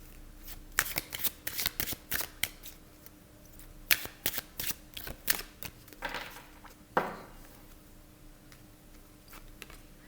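Tarot cards being shuffled by hand: quick, close riffling bursts come in an uneven rhythm, with a few sharp taps and a longer sliding swish near the end.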